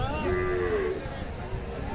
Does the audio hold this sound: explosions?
no